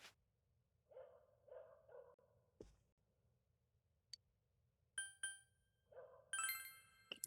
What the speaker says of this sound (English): Hey, Radigan's dog.